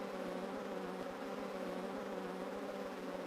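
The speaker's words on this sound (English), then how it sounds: "Ah, the queen bee is back." A queen bee buzzes in the video game Kingdoms of the Dump, a steady droning hum that holds evenly throughout at a faint level, with no speech.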